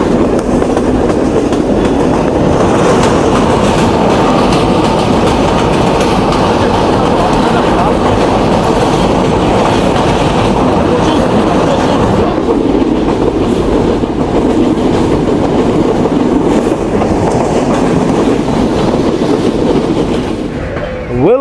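Rupsha Express intercity train running near Alamdanga, Bangladesh, approaching the red bridge: a loud, steady rumble of the carriages with continuous clickety-clack of wheels on rail, held close and constant throughout.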